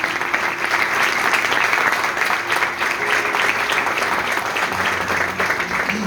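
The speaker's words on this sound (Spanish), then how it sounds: "Dan un aplauso fuerte al Señor." Strong, continuous applause from a church congregation, many hands clapping together at a steady level across the whole stretch, with a faint held tone underneath.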